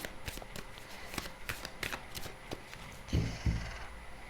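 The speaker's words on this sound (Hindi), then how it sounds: "पहले मैं कार्ड्स ड्रॉ कर लेती हूँ" Tarot cards drawn and shuffled from a deck, a run of soft papery flicks and slaps, with two louder thumps near the end as cards are set down close by.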